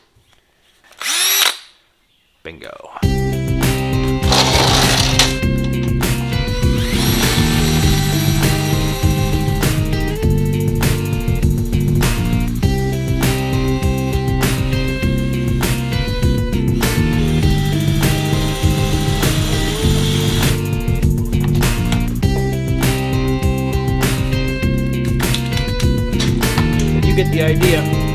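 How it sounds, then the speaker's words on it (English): A power drill runs hard on a Jeep XJ part with a loud, continuous, close whir under shifting load for over twenty seconds, after a brief clatter and a man's short exclamation. "So drill it is."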